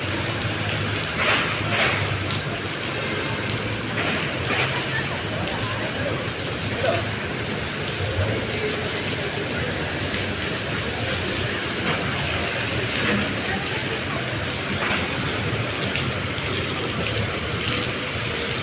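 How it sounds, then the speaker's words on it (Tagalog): Rain falls steadily near Gateway in Cubao as a dense, continuous hiss over low street rumble, with faint voices in the background. "naulan tayo dito sa Cubao"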